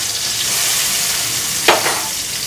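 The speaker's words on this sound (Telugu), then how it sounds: "ఇప్పుడు ఈ టమాటాలు కొంచెం వేగాలన్నమాట కొంచెం మెత్తబడాలి" Tomatoes fry in a pan for urad dal roti chutney, a loud continuous sizzle with one brief stirring swish near the end.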